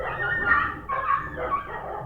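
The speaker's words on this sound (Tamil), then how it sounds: "நாய் வேறு சவுண்டு ஓடுது." A dog barks and yips repeatedly in quick bursts, fairly close and loud, with whimpering tones between.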